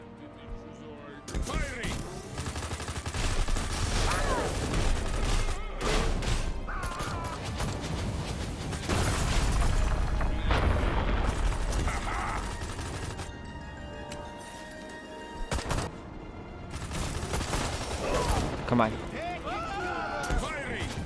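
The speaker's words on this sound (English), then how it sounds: "Meteor strike. Point the laser and shoot." Meteor strike explosions in the game Destroy All Humans 2 Reprobed roar in long, loud crashing bursts mixed with mechanical rattles, while voices talk over the din.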